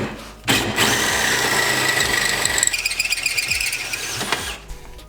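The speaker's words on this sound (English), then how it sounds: "we're gonna hole saw a chunk out of this," A power drill drives a hole saw through sheet metal on a car build, a loud steady grinding whine with a rising squeal, then a rough chattering stretch as the teeth bite, close and continuous for several seconds.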